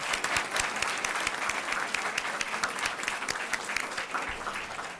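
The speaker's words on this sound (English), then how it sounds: "Let's give them a round of applause as we get ready for that picture." Steady applause from parents and staff at a Fort Bend ISD school board meeting, honoring Bush High School students; dense, continuous clapping fills the room at moderate level without pause.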